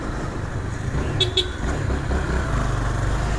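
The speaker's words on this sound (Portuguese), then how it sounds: "Tem que buzinar que o bagulho é louco." Two quick motorcycle horn toots sound close together amid steady road and engine noise, followed by a fainter third beep.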